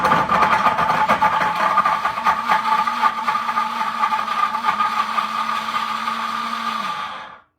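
A kitchen blender runs steadily and loudly with a constant grinding whir for about seven seconds before cutting off abruptly.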